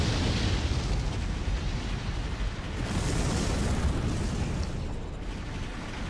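Explosions destroying turrets in the mech combat game Armored Core for Answer, a continuous, loud, rumbling roar of blasts and bursts that blend into one another, with no talk.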